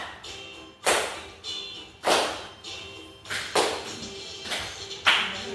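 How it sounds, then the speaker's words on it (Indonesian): A class claps hands together in a slow, steady beat in a classroom, with about five sharp, loud unison claps spaced roughly a second apart. "tepuk tangan biar semangat"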